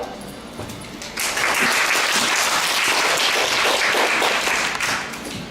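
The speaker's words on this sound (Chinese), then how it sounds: "那我们现在用掌声来欢迎" An audience at a student council election speech event breaks into applause for a presidential candidate, a dense, loud, sustained burst of clapping after a quieter start, filling the hall for several seconds.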